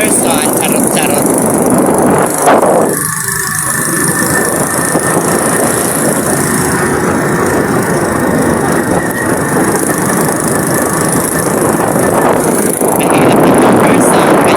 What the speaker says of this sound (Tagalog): pasensya sa motor ko ha, kasi maingay